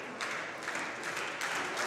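A wrestling crowd cheers and roars steadily through a tense scramble between two wrestlers on the mat, a loud, continuous wash of voices with surges of louder cheering and no distinct single speaker.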